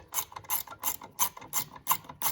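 Ratchet wrench clicking in quick, regular bursts while the battery hold-down nuts are snugged down on an Infiniti car, about seven crisp close-up strokes with no talking.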